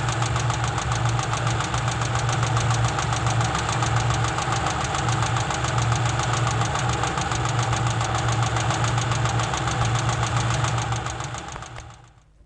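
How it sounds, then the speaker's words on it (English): A car engine idles with one tappet badly adjusted and left with too much clearance, giving a loud, steady, rapid metallic clatter over the running engine that holds evenly before cutting off at the end. "Here is the sound of one tappet badly adjusted."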